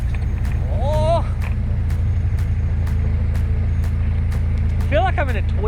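Inside a Mazda MX-5 Miata while driving, a steady low engine and road drone fills the cabin throughout, with a few sharp ticks and bursts of speech over the top.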